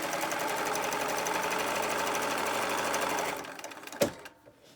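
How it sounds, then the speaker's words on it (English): A sewing machine runs in a steady, rapid whir, stitching fabric ties for face masks for about three seconds, then stops, followed by a couple of small clicks and a soft thump. "then just run it through my sewing machine"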